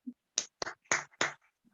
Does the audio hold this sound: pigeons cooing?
no